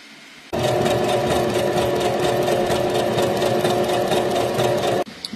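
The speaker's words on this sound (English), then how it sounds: "We'll pin it and do a zigzag stitch around the top thumb portion, the right side," A sewing machine runs steadily, zigzag stitching fabric around the thumb of a short fingerless glove, a loud continuous mechanical whir that starts abruptly and cuts off after about four and a half seconds.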